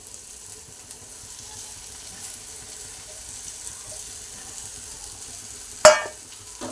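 Sliced okra with turmeric fries in a pan over a high flame, giving off a faint, steady sizzle. Near the end, a single sharp metallic clank rings out.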